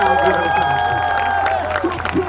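Crowd applause and cheering at a night football match in Dharan, Nepal, with a loud steady wash of clapping and voices under a tonal hum, while an announcer's voice carries over the crowd.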